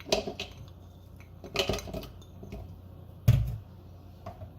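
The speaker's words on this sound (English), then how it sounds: "I'm gonna put all of my stuff into the blender cup." Ingredients go into a blender cup in a home kitchen, making a few light clinks and clatters against the container, with a sharper knock near the end and soft handling noise between.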